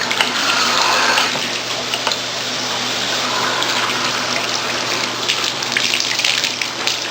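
Water pours from a shower faucet with a broken handle during a home inspection, a loud, steady, close rushing spray that lasts throughout.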